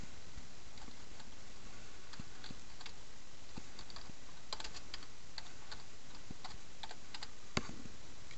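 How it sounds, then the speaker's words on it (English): Typing on a computer keyboard while naming a custom Guitar Hero 2 save, a run of quick irregular key clicks over a constant background hiss, close and fairly quiet, no talking. "So I will type in"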